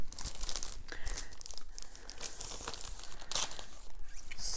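Tight plastic shrink wrap peeled and torn off a new vinyl record sleeve with an obi strip, a steady run of close crinkling and ripping with no talk.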